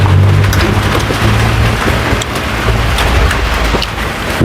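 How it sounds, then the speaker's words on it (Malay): Steady rain falling outdoors beside a house during outdoor village-style chicken grilling, a dense loud hiss with a low rumble underneath, continuous throughout. "Hujan."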